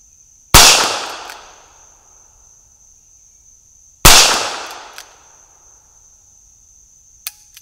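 Two sharp, loud reports from a Smith & Wesson 617 revolver fired at a 3-inch target about 65 yards away outdoors, spaced several seconds apart, each with a decaying echo tail, while crickets chirp steadily in the background.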